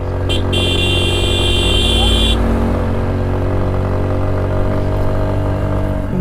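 A motorcycle engine labours at steady, high load while climbing a steep uphill road on the way to Sajek. Its drone is loud and constant, and a high whine or horn-like tone runs through the opening seconds.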